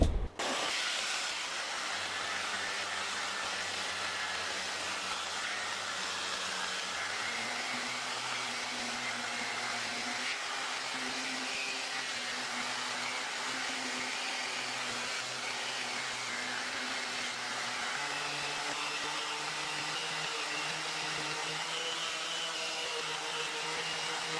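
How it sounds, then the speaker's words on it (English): Power sander running steadily on stained wood being sanded back after a custom stain has dried, a continuous close whirring drone with a slight shift in tone partway through, with no talk. "All right, we sanded out even a little bit more after this initial sand."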